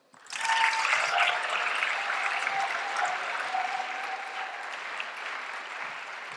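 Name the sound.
audience applause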